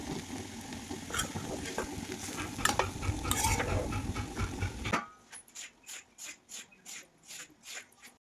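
A spoon stirs potato bhaji with a little sugar in a pan, giving a dense scraping and sizzling mix for several seconds, then quieter rhythmic scrapes repeating about twice a second.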